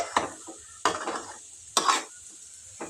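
Beetroot curry being stirred in a pan: three or four distinct scraping swipes of a spoon against the pan at a slow, uneven pace, each with a short clatter, over a faint steady sizzle.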